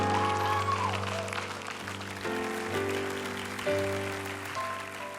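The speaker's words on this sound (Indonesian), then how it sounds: "Tepuk tangan untuk Krisna." A studio audience on an Indonesian stage show claps for a guest named Krisna, moderate and a little distant, beneath prominent sustained musical tones and chords that shift every second or so.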